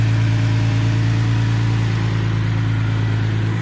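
Close, loud and steady idle of a Nissan 370Z running through a Tomei exhaust with a Stillen dual cold air intake, its low rumble continuous with no talking over it.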